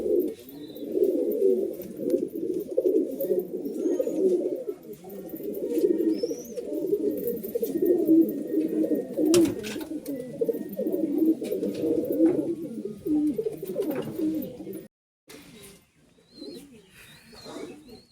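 Pigeons coo continuously and close by, layered soft throaty calls rolling over one another for most of the stretch before fading into near silence at the end.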